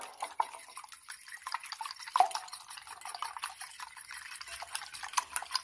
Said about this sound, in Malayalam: ഇപ്പം ഞാനൊരു ഫോർക്കും കൊണ്ടാണ് ഉടച്ചെടുക്കുന്നത്.